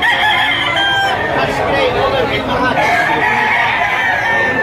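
Roosters crow loudly and nearby at a gamefowl market and auction in Lipa, Batangas, with overlapping crows and clucks over a busy crowd murmur and people talking.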